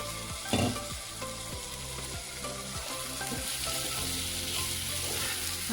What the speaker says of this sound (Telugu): ఆలు అయితే బాగా ఫ్రై అయిపోయిందండి మసాలాలో